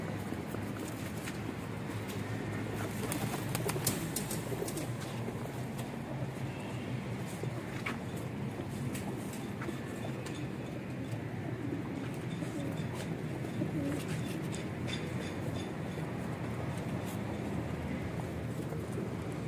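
Pigeons of the kabootar kind, caught from a rooftop, coo in a steady low murmur, with occasional sharp flutters and wingbeats breaking through, over a continuous background hum.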